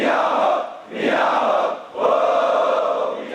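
A large crowd roars out cheering war cries in three long swelling bursts as devotees circle a temple before a ritual fish catch in Kavvayi backwater, loud and close.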